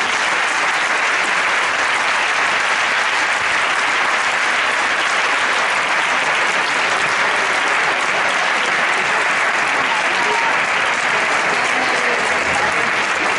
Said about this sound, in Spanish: voy a pedir un aplauso muy, muy especial para él